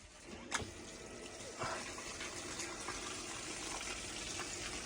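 Makita-converted 12v pump pushing water through a hose, a steady faint rushing gush with a couple of small knocks, continuous throughout.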